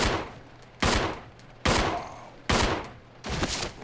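Four loud, sharp bursts of gunfire from the video game Resident Evil 0 HD, spaced roughly evenly with short decaying tails, heard alone without talk.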